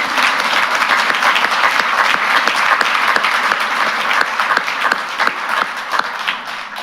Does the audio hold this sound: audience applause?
yes